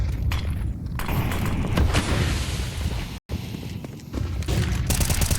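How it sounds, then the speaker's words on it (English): Bursts of gunfire and booming blasts from a Counter-Strike 2 esports match, loud and dense for most of the stretch with a brief dropout partway through. "Oscar to pick the long corner. Mikey to throw out incendiary."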